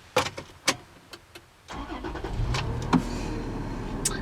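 A 2010 Toyota 4Runner V6 cranks and fires up after a couple of door or cabin clunks, then settles into a low, steady idle heard from close by.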